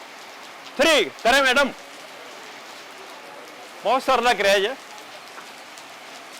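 Steady rain hisses over an outdoor free yoga camp at an old grain market in Phagwara, a constant wash under an instructor's voice that speaks in two bursts.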